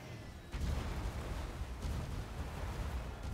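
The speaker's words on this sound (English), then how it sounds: "Luther's still a little bit surrounded, so we're going to drop another Ion Cannon Blast." An Ion Cannon Blast strike in Total War: Warhammer 2 lands with a sudden heavy boom, followed by a sustained rumbling roar of battle with a second surge partway through.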